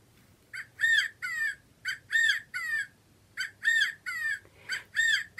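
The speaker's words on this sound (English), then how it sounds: "To hear a lifelike quail call." A stuffed toy quail plays a recorded quail call at the press of a button: a run of repeated harsh, raspy calls in groups of two or three, fairly loud and close, with brief pauses between groups and no talking.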